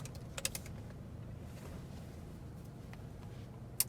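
A password is typed on a computer keyboard in a quiet room: a short flurry of light key clicks near the start, then a few sparse taps over a low steady hum, ending with a single sharper keystroke.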